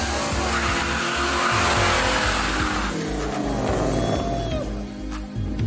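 An American car drives hard with tires squealing and skidding, a loud engine roar and screeching rubber that stay steady throughout, then ease slightly near the end.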